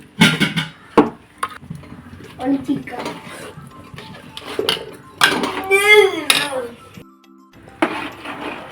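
A spoon stirs cooked chana dal into melting jaggery in a pan for payasam, producing close, irregular scraping and clattering of utensil against metal, with someone talking over parts of it.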